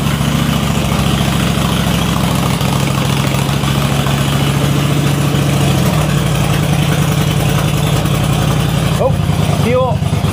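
A motorcycle engine warming up at idle, loud and close with a steady low chugging throb that barely changes.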